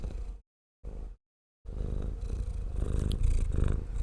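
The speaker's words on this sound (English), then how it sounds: "maybe you can hear his purrs" A cat purrs close up in low rumbling bursts, broken by brief silences before a continuous purr resumes.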